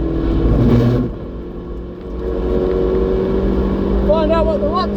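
A Hyundai i30 N engine on a race track drones loudly, dips briefly as if through a gear change, then climbs again in a steady rising pitch. A voice speaks over it.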